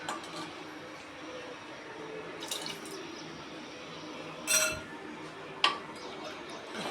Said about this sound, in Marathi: तुम्हाला पातळ पाहिजे असेल तर थोडं जास्त पाणी टाका